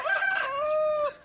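A village farm chicken crows once, close and loud, in a single rising then held call that fades at the end, with no talk over it.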